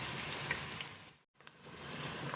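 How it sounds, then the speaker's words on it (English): Onions caramelizing in a frying pan, a steady broadband sizzle and crackle at close range, briefly cut to silence midway before resuming, with no voices. "we're watching the onions over there, they're right next to me, caramelizing"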